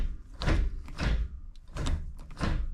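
A notchy manual T56 gear shifter in a 1994 Impala SS clunks through four firm shifts, each a loud, close mechanical thunk spaced roughly half a second apart, with no talking.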